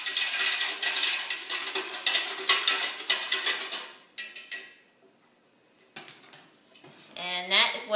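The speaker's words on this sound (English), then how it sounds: "Then you're going to whisk it together" A yeast mixture is whisked in a bowl, a fast rhythmic clinking of wire against the bowl that runs for several seconds, stops, then returns briefly before a voice is heard.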